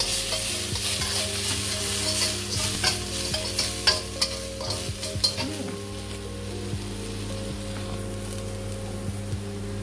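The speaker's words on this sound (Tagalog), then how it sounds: "We're going to stir fry the broccoli." Broccoli stir-fries in a pan with a constant sizzle and a quick run of scraping, clattering stirs that ease off, leaving the frying hiss steady near the end.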